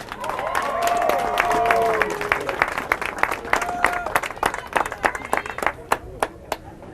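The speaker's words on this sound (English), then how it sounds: "they deserve a nice round of applause" A crowd at a Wiscasset Speedway driver-of-the-month presentation applauds, a dense burst of clapping that thins into scattered individual claps, with a brief voice audible early on.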